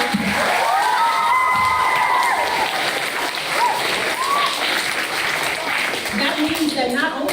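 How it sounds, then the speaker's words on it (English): A crowd at an elementary school ceremony claps and cheers steadily, with scattered shouts and whoops from children rising above the continuous applause. "So give yourselves a round of applause"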